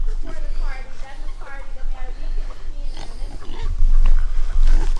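Pigs on a New Hampshire homestead grunt and snort in short, repeated bursts at close range, mixed with low rumbling and handling noise.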